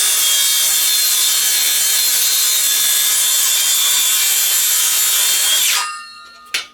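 Wood being cut with a power saw while making solar panel legs, a loud steady high whine through the board that cuts off abruptly near the end, followed by a brief knock.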